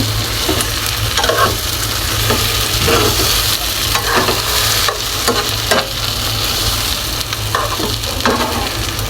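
Tilapia fish frying in a pan with spices stuffed into scored cuts, a steady close sizzle with occasional stirring and scraping sounds throughout, no talking.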